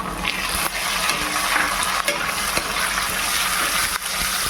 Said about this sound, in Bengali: এবার এই ভাজা পেঁয়াজের মধ্যে চলে যাবে টমেটো।